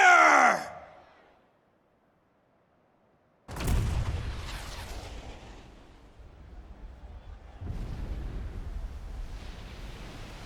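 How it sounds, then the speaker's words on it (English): Junon's huge cannon in Final Fantasy VII Rebirth fires a deep, booming blast after a brief silence, with the rumble rolling away and a second wave of roaring noise following, loud and without talk. "with a single blast of Junon's famous cannon, Rufus Shinra has announced his arrival."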